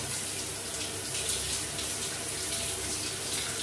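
Shower water running, a dense, close, continuous hiss of spray with no pauses and no voices.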